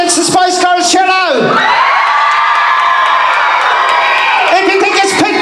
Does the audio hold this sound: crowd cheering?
yes